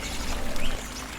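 A video game waterfall pours into a pool, giving a steady, broadband rushing wash of falling water that swells slightly midway, continuous and alone.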